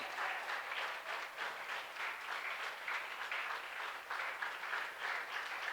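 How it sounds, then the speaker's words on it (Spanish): A church congregation at a worship service applauds in a sustained, pulsing round of clapping at moderate distance, with no speech over it. "Un aplauso a Cristo."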